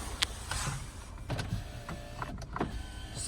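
A Skoda Fabia's electric power window motor whirs in short, quiet bursts with small clicks and thumps between them, heard up close inside the car.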